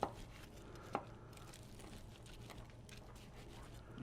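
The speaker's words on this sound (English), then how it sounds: "But by chopping that meat, what you end up with are pieces that are shreddable" A cleaver chops hickory-smoked barbecue meat with a couple of sharp, distinct thwacks at the start, faint muffled chopping trailing off under low background noise.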